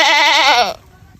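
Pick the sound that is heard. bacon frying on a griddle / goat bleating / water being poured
goat bleating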